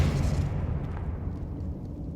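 A spell explosion goes off in the Hogwarts Legacy video game, a loud, close, deep boom that swells at once and then rumbles and fades over a couple of seconds, with no one talking.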